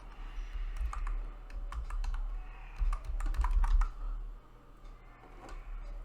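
A password goes in on a computer keyboard as a run of quick, faint key clicks in small clusters over a low background hum, with no talk.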